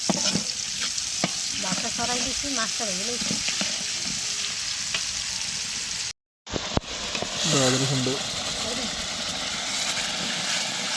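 Frying and stirring in a cooking pan, with ginger, garlic, cumin paste, chili and turmeric going in: continuous loud sizzle with scraping stir strokes and a brief cut, while a voice talks over it.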